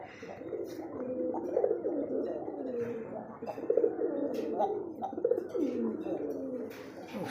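A male pigeon coos close by in repeated rolling, throaty phrases over a quiet background.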